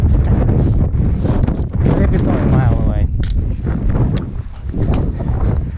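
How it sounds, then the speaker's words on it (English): Strong wind buffets and roars across the microphone, gusting throughout while a person talks over it outdoors at a tent site in the Northern Presidentials. "but it is a little windy up here"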